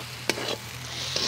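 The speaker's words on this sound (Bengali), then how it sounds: "রসুনটা দিয়ে দিচ্ছি। রসুন নাড়িয়ে নেব" Garlic fried in hot oil while being stirred in a pan for crab biryani, a steady close sizzle broken by a few short scraping stirs, with no talk.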